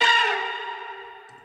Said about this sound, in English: And then strings.